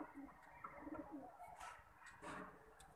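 Soft, low pigeon cooing repeats a few times amid a faint background murmur of other birds, moderately close.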